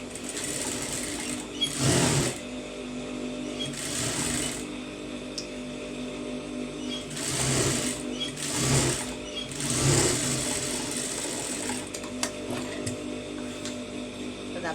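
Sewing machine stitching a patch design onto a blouse sleeve, running in several short whirring bursts of rapid needle clatter separated by quieter pauses, heard close up.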